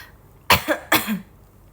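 Two sharp coughs from a person at close range, spaced about half a second apart, each a harsh burst with a short rasping tail, over a quiet room.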